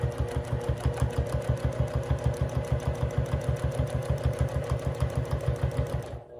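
A domestic sewing machine stitches free-motion quilted feather plumes, running steadily with a fast, even needle rhythm, loud and close, then stopping abruptly at the very end.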